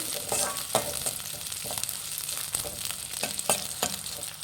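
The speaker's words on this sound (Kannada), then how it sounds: "ಈರುಳ್ಳಿ ಹಾಕೊಂಡು ಸ್ವಲ್ಪ ಫ್ರೈ ಮಾಡ್ಕೊಳ್ಳೋಣ" Onions for chilli chicken frying in a pan over a low flame: a steady close sizzle with occasional sharp scrapes from stirring, and no talk.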